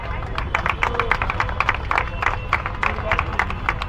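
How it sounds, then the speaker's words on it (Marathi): A crowd claps steadily, a dense patter of many hands at moderate loudness, with some murmuring underneath. "सगळ्यांनी टाळ्या जोरात वाजवा"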